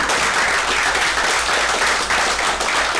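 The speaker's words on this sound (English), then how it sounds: "Let's give them a round of applause." Steady, dense applause from an audience at a real estate investing event, welcoming the evening's sponsors; close and continuous for the full stretch without a break.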